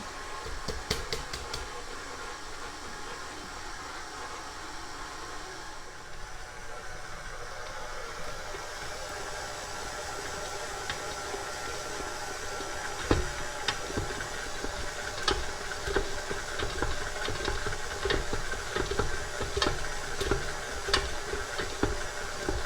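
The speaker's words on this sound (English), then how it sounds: "We'll just give it a stir for a few minutes" A stand mixer stirring bread dough for sandwich buns, a steady low mechanical whir with soft hiss, running alone and continuously, with sharper clicks and knocks growing denser in the second half.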